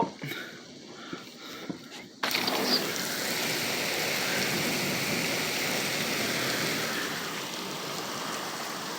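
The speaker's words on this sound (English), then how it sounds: "It's really pouring out there." Heavy rain from a thunderstorm suddenly pours down after a quiet moment, becoming a loud, steady, dense hiss of water that continues unbroken to the end.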